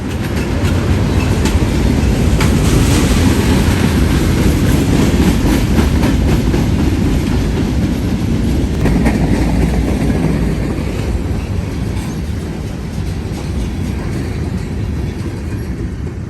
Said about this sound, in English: we see eastbound NS 170 passing by where I was a couple nights before